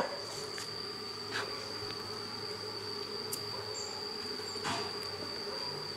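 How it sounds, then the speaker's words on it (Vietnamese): Wild forest bees buzz in a steady high drone with insect chirring throughout, a few brief louder passes standing out close by, no voices. "Có ong kìa các bác kìa."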